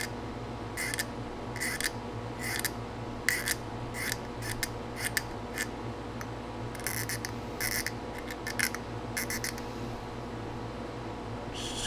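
An X-Acto hobby knife scrapes seam lines off a plastic part of an A-6E Intruder scale model, giving repeated short, crisp scratchy strokes in irregular bursts, close and fairly quiet over a steady low background hum.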